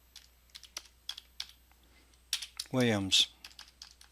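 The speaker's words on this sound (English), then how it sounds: "it says please type your signature here" Computer keyboard keys tapped in short, irregular bursts while typing a signature into an office e-signature form, with a brief spoken name and a short tone partway through.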